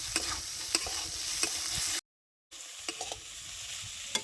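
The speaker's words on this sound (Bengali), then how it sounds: "এবার আলু বরবটি ভালো করে ভাজা ভাজা করে নেব" Chopped potatoes and yardlong beans frying with ginger in a pan, a close, constant sizzle with stirring scrapes, cut by a brief moment of silence midway.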